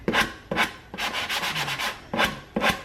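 An old wooden furniture drawer being sanded by hand with 120 grit sandpaper: five loud, rasping strokes in a steady back-and-forth rhythm, close up, with no talking.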